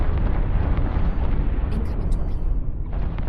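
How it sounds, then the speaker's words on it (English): Continuous roaring space-combat explosions from the game Infinity: Battlescape, loud and dense with rumbling low booms throughout and a brief crackle of debris partway through. "lot of kabooms"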